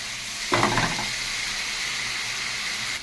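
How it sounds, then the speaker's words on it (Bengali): Spice paste with salt and sugar fries in a pan for dhokar dalna. A sharp burst of sizzling and stirring scrapes gives way to a steady, hissing fry, with no talking. "মশলাটাকে ভালো করে কষিয়ে নিচ্ছি।"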